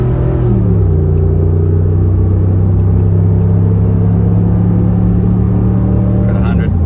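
A Range Rover P38 accelerates hard from standstill toward 100, its engine droning loud and close with a strong low rumble, pitch climbing briefly at the start and then holding steady as the run continues.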